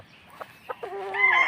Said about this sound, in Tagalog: Magandang manok din.